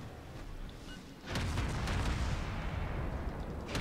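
Soviet cruiser guns firing shells in a naval video game, a heavy booming salvo that erupts suddenly and rumbles on, with faint distant blasts before it.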